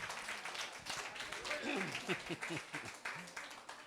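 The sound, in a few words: congregation clapping during church service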